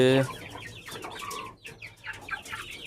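A grey hen clucking close by in short, uneven bursts, with a brief low hum at the start and no talking.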